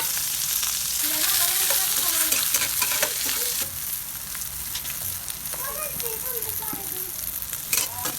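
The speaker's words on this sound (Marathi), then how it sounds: "कांदा भाजून घ्यायचा तेल" Onion frying in oil for dal sandga, a dense close crackling sizzle with spatula stirring, loud at first and easing slightly partway through, with faint voices in the background.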